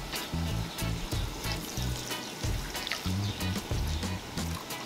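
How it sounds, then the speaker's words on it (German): Water pours steadily into a pot holding 800 grams of sugar for baklava syrup, a continuous splashing trickle with a low, warbling tone underneath, close and unbroken throughout. "Und gießen Wasser auf."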